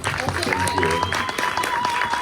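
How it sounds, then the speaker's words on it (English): Audience applause at a film Q&A screening event, clapping mixed with overlapping voices and crowd chatter over a short stretch. "So let's just give them a round of applause."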